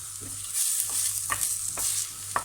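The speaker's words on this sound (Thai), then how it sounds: "ใส่น้ำมันลงไปเจียวหัวหอมนะคะ" Steady sizzling of onions frying in oil, with a few soft stirring scrapes breaking through the crackle.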